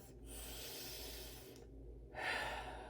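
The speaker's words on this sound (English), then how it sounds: "Take a nice, easy breath." A slow, easy breath taken close to the microphone, a soft airy inhale followed after a short pause by a fuller exhale, quiet and unhurried with nothing else heard.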